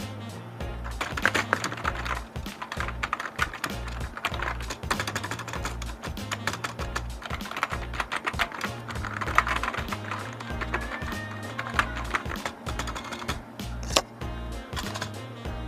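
Steady typing on a Rexus membrane gaming keyboard, a dense run of soft, muffled key presses with occasional louder thocks, close up and without talk.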